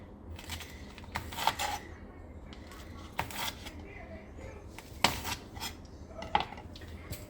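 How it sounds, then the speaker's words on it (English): Sharp, irregular taps of a knife striking a cutting board as a jalapeno is chopped, close by with faint room noise between strikes. "I'm going to cut up a jalapeno."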